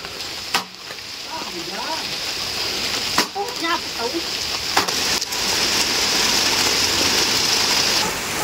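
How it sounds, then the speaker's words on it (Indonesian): Steady rain falling in a village in the middle of a forest, a constant broad hiss throughout, with people talking over it and a few sharp knocks. "Hujan, teman-teman."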